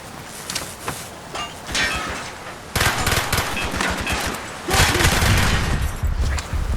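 Rapid gunfire rattles in the Call of Duty: Black Ops video game, dense bursts of automatic shots building in loudness and layered with battle noise and distant shouting.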